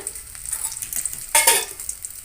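Oil heating in a pan, giving a close, steady sizzle with a light crackle and one brief louder burst of spattering.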